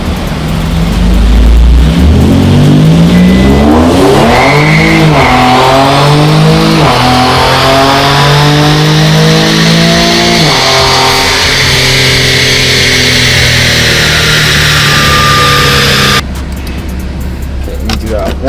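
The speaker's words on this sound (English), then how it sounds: "Manual mode, brake off, to the log, and I'm just gonna floor it." Infiniti Q50 with tuned transmission launched hard from a brake-off start in manual mode, engine revving loudly and climbing through rising gear sweeps for most of the run, then easing off near the end.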